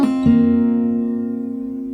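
A single plucked note on fingerstyle guitar, part of a sped-up song phrase, rings out after a quick attack and slowly decays, heard close and alone.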